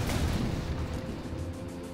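Units exchanging gunfire and artillery in the Syrian Warfare strategy game, heard as a dense, continuous rumble of booms and shots blending into steady battle noise.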